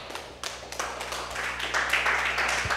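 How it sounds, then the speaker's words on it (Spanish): Church congregation clapping and cheering in praise, a dense, steady wash of applause swelling slightly over a few seconds. "Dale un fuerte aplauso al Señor."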